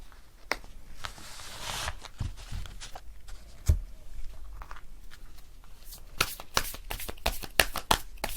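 Oracle cards are shuffled by hand during a pick-a-card tarot reading: close, crisp riffling and slapping bursts that come in irregular clusters and grow quicker and denser near the end.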